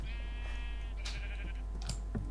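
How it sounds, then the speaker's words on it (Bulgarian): A sheep in Minecraft bleats in a long wavering cry, followed by shorter bleats, over a constant low hum. "И сега има овца."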